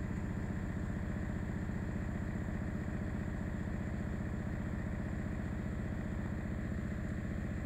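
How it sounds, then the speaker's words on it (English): Saab 9-3 TiD diesel idling steadily with its loose rear muffler knocking against the exhaust or chassis, a constant low rumble with fine rattling pulses throughout, close and continuous. "That's the rear muffler laying onto the exhaust or onto the chassis."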